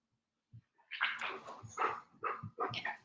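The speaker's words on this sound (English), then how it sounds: "I'm going to bring my dog inside. He's barking." A dog barking outdoors at a moderate distance, several short barks and yips in an irregular series, faint and fairly quiet.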